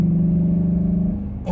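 Engine of a 2014–2020 GMC Sierra truck fitted with an S&B cold air intake gives a deep, steady low growl, close and loud, holding for about a second before easing slightly, with no voices.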